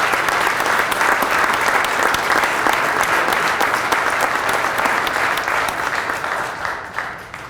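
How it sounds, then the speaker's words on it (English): A sustained round of audience applause at a hall of fame induction ceremony, dense and steady clapping from a large crowd that thins slightly toward the end. "So a round of applause for everybody."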